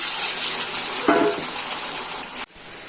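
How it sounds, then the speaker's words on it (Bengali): Hot water poured into a pan of frying potato and pointed gourd curry, giving a sustained loud hissing gush with a brief splash partway through, cutting off abruptly before the end. "এবার দিয়ে দিলাম একটু গরম জল।"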